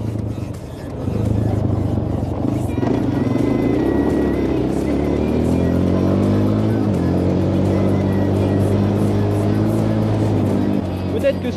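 A Suzuki LTZ 400 quad's engine idling and revving outdoors in the fields, a loud throaty drone with rising and falling pitch, steady and close for most of the clip.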